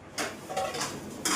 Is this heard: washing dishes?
yes